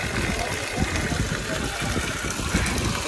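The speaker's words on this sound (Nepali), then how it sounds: "तातो पानीमा आएर धुइरहेछौँ" Hot spring water gushes from an outdoor tap at Tatopani while a school shirt is washed under it, a steady splashing rush close by with people talking over it.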